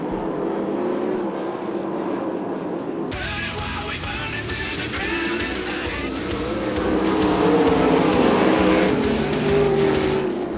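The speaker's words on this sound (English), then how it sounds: "Colton Hardy, he'll win heat race number 1 for ASCS Southwest Region Sprint Cars by some 2 seconds over John Carney" ASCS Southwest Region sprint cars race a heat at Arizona Speedway, their engines roaring in a loud, sustained drone that swells as the pack passes nearer toward the end, with no talk.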